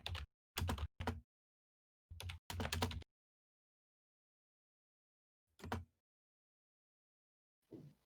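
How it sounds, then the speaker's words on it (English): Loud computer keyboard typing comes in short, close bursts of rapid clacking keys, separated by stretches of silence, with a final brief tap near the end. "You have a loud keyboard"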